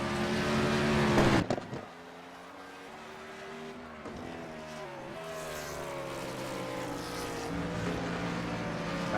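A race car at Road America roars past close by, its engine loud before dropping away with a tire squeal. It then climbs through the gears as a steady, rising drone, with commentary under it.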